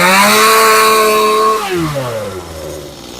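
A Stihl MS211 chainsaw engine runs loud and close after a carburetor adjustment, holding a high whine before its pitch drops as it settles toward idle.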